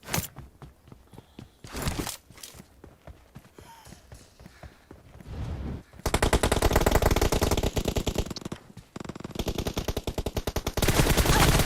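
Automatic gunfire in PUBG, fast rapid bursts that start sparse and then fill the second half with loud, dense, sustained volleys and near-continuous fire.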